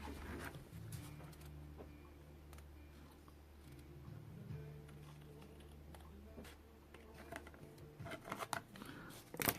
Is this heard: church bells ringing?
no